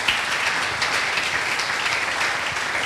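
An audience at a worker-training church gathering applauds and cheers, a steady dense wash of clapping that stays loud and even throughout, with no talk over it.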